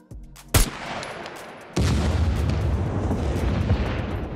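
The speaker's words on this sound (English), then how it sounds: "we are gonna retest the PROM 1 mine to see if we get the same result" A PROM-1 bounding mine in the game SCUM is shot and then explodes: a sharp single gunshot, then a heavy boom after about a second that rumbles on and decays slowly.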